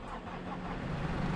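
A skid steer loader's engine in Farming Simulator 22 runs as a steady, low mechanical hum with a continuous rumble and no voices.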